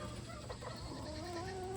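Chickens and two white roosters among hens cluck and murmur under a dense, noisy farmyard background, with one rising, drawn-out call near the end.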